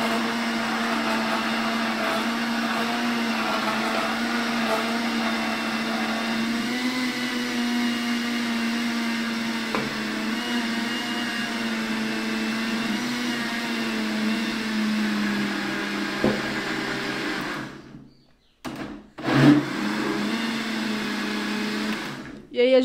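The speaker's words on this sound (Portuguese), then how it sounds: "Nós vamos colocar as farinhas com o liquidificador batendo" A kitchen blender whirs steadily while mixing cornmeal cake batter with corn and wheat flour, a loud continuous motor drone that shifts pitch slightly before stopping in short pulses near the end.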